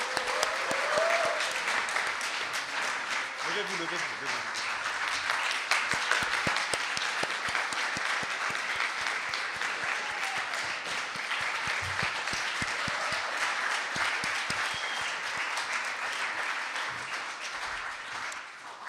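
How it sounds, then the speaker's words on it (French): A crowd at a French national pleading championship final claps loudly and steadily for nearly twenty seconds, a dense wash of applause with a brief spoken call near the start. "Je pense qu'on peut à nouveau les applaudir vraiment bien fort."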